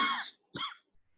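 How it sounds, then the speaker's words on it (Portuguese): Two short, quiet coughs in a quiet room, separated by a brief pause. "Deixa eu dar uma tossida aqui melhor."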